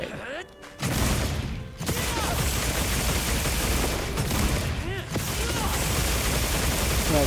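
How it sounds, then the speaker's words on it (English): Weapon explosions in the video game Monster Hunter Wilds roll out in a dense, continuous barrage of booms and crackling blasts, loud and close, after a brief quieter lead-in. "Explosions! Lots of explosions."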